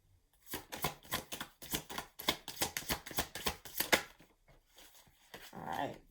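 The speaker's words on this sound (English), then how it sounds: "This is my last shuffle." Rapid riffle shuffling of tarot cards, a burst of crisp clattering flutters repeating in quick succession, close by, tapering into softer handling at the end.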